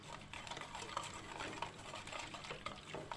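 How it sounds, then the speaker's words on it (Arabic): A spoon stirs a milk and starch mixture in a pot, producing soft, faint, continuous liquid swishing and scraping in a repeating rhythm. "هقلب كده اتقلبت اهي"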